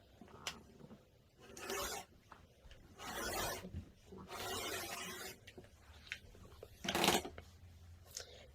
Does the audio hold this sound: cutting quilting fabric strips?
yes